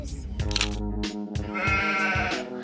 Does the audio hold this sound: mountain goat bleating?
yes